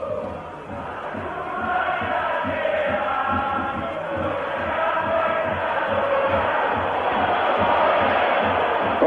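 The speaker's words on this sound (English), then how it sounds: "the Italian crowd don't like it" An Italian football crowd in a 1983-84 European Cup semi-final, AS Roma against Dundee United, whistling and jeering in disapproval, a dense, steady roar that slowly grows louder across the stadium.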